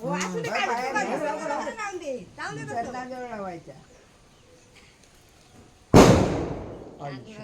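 A single loud firecracker bursts sharply during a village Ganpati immersion in Konkan, ringing out after people chatter nearby.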